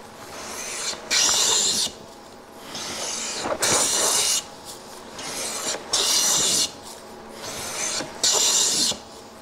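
A hand plane shaves a wooden board in repeated strokes, each a bright, rasping swish about a second long separated by brief pauses, steady and close with no talking.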